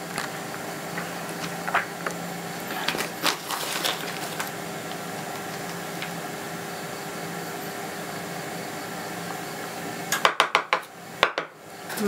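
Crispy tom yum instant noodle salad tossed with crispy batter flour in a bowl, light scattered clinks and scrapes of utensils, then a cluster of sharp, loud rattling knocks toward the end.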